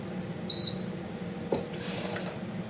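A single short, high electronic beep from an oven sounds early on, then the kitchen stays quiet apart from low background hum and a soft knock.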